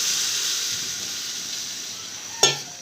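A quiet, steady hiss of hot oil, then a sudden loud sizzle as water hits the pan and quickly settles.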